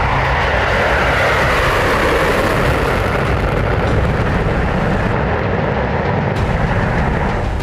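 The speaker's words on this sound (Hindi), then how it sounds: "रूस का Tu-160 धरती का सबसे तेज रफ्तार से उड़ने वाला बॉम्बर है" Engines of a Russian Tu-160 strategic bomber roar loud and continuous throughout, a dense, powerful jet rumble with no voices.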